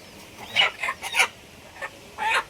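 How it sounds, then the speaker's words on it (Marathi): Native country hens packed in crates cluck in short, close bursts, several sharp calls spaced irregularly over a quiet background. "असे 3 कॅरेटमध्ये 6 कोंबड्या आपण दिलेले आहेत."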